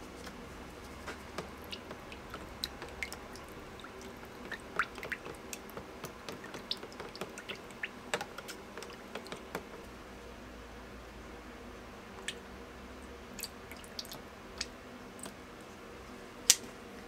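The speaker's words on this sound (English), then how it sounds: "Now we're going to be adding the dyes." Dye drips into cactus juice resin in plastic containers, giving scattered small ticks and faint plinks that come irregularly over a soft, steady hiss, quiet and close.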